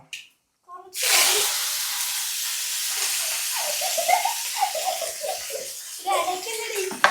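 Curry leaves drop into hot oil in a pan, producing a sudden burst of loud, broadband sizzling and hissing that settles into a steady, crackling fry with small pops, while a voice is heard faintly near the start.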